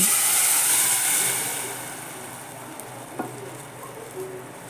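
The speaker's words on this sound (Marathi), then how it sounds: "फोडणे घालते" Hot tempering spices hit a pot of tomato saar with a loud, airy sizzle that fades over a few seconds into a quieter simmering hiss, with a couple of small clinks.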